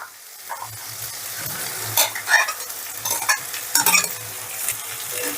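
Mashed eggplant stirred into a fish head frying with spices, a soft ongoing sizzle broken by repeated scraping spatula strokes and wet clatters in uneven bursts.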